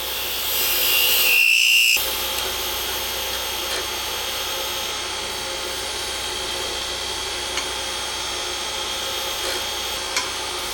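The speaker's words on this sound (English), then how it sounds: "here I'm going to use my small skew chisel to trim up the ends." A small skew chisel trims the ends of an acrylic pen blank on a lathe, giving a steady scraping, rubbing hiss with a brief louder cut near the start, close and alone without talk.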